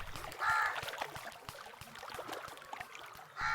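A crow caws several times in short bursts near the start and end, loud and close, over faint water-like background noise with scattered clicks.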